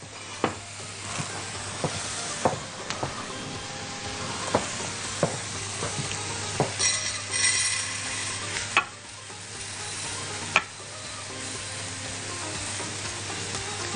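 Orzo pasta and meat sizzle steadily in a pan while a spoon stirs and scrapes in frequent sharp knocks over the constant frying hiss.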